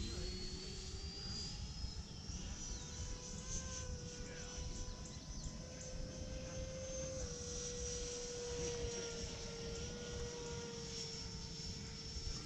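E-Flite F-16 Thunderbirds RC jet with a 70mm electric ducted fan, flying over a grass runway: a faint, steady whine that rises and falls in pitch as the plane passes, with some talk.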